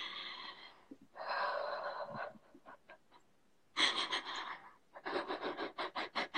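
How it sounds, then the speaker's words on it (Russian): Someone doing a deep breathing exercise during a psychology session, with long, loud, rasping inhales and exhales separated by short pauses, and a final stretch of rapid, rhythmic panting breaths, close and wheezy, no talking. "Дыши глубже"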